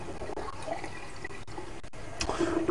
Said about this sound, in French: Ouvrez bien à fond le robinet.